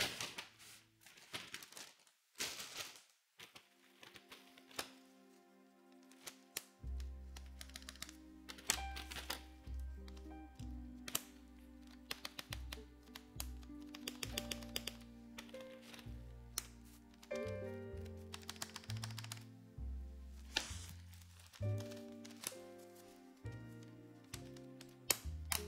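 Keystrokes on a NEO Element Ultimate G67 mechanical keyboard prototype with keycaps fitted, a steady stream of close, crisp clacks and thocks in irregular typing rhythm, with occasional louder bottom-outs and no talking.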